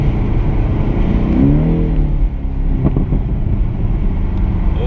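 A Porsche accelerates at a driver skill event, the engine rising in pitch then easing off, loud and close inside the car, with voices in the cabin.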